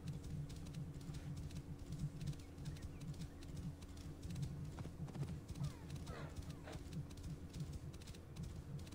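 Pony hooves clip-clopping steadily in Assassin's Creed Origins, a continuous trotting rhythm close by, with an occasional whinny and faint ambient game sounds.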